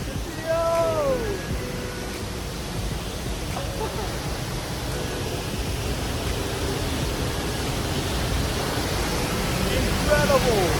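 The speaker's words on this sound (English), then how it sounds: "Literally behind the waterfall right now." Winter waterfall at Ozone Falls roars from directly behind the falling water, a dense, steady wash of rushing noise that fills the whole clip, with faint voices now and then.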